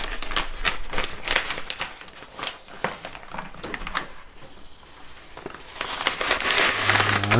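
A plastic bag for bacon being grabbed and handled, close crinkling and rustling bursts that grow busier toward the end, no talk.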